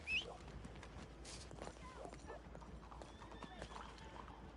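Horse hooves clip-clopping in the Red Dead Redemption Online video game, a steady rhythmic trot with an occasional whinny, heard close under faint game ambience and light talk.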